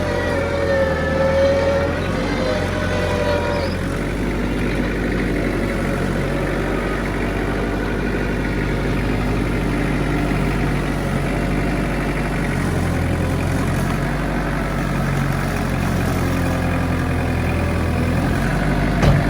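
Small tractor engine straining under load while trying to lift a trailer neck, a loud, close, continuous low drone with a whining hydraulic tone, steady throughout.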